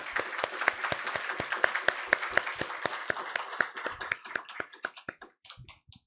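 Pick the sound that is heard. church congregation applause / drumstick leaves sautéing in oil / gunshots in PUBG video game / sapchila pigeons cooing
church congregation applause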